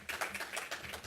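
Audience at a literary festival panel debate clapping, a brief burst of applause with rapid overlapping claps, moderately quiet and distant.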